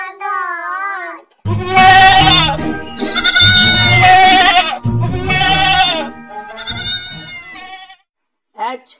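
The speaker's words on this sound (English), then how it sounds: "Ji for got. Ji for got." A goat bleats loudly and close by, several long, wavering cries in a row separated by brief pauses, with a short final call at the end.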